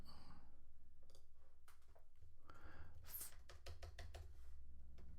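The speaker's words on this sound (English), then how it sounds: "my typing is horrible" Someone types on a computer keyboard in bursts of quick, faint clicks and taps, close by and quiet, with soft breathing in the background.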